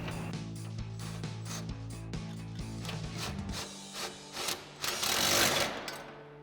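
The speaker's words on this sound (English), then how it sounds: "use our 13 mil swivel socket and extension to get this tightened down" A 13 mm swivel socket on an extension ratchets down exhaust bolts during a Magnaflow Competition Series cat-back exhaust install on a Challenger, making rapid, even mechanical clicking close by that turns louder and harsher near the end.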